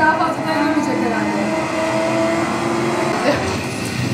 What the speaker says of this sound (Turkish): Araba artık gidiyor.